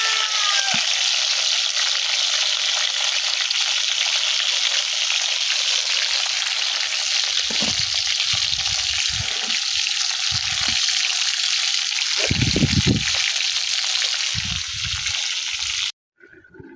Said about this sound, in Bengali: দেখো, আমি মরিচগুলো এখন বাজি নিচ্ছি।